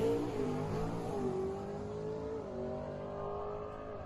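A drag racing car screams as it accelerates hard down the track at Atco Dragway, heard from outside, its pitch climbing steadily through the gears, loud and sustained from start to finish.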